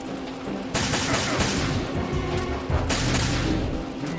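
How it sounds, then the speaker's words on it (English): Video game gunfire rattles in dense, loud bursts of rapid automatic shots, two sustained volleys with a short gap between them. "I'm shooting everything"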